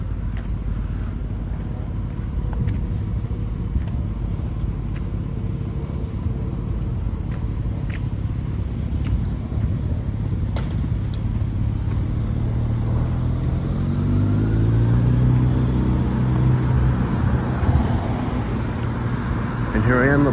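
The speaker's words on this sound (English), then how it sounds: "This motorcyclist is not really away from that car at all. It's like he's right up against his ass." A motorcycle rides close behind a car in late-night city traffic near Sherbourne, a steady road rumble and engine noise that grows and rises toward the end, heard while someone walks past and talks.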